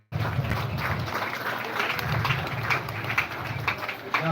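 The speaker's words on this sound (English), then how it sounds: "let's give a clap offering to God" A church congregation clapping together as a clap offering to God after a sermon, with dense, sustained applause from many hands, fairly distant and slightly swelling.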